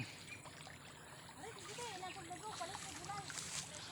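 Shallow river water trickles and babbles close by, a gentle continuous flow with small gurgling bursts, quiet and unaccompanied by talk.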